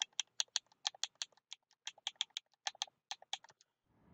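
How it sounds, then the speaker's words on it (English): Rapid plastic Xbox Series X gamepad button clicks in quick irregular bursts, close and crisp, with brief pauses between runs and no talking. "on the gamepad, you hear the clicking"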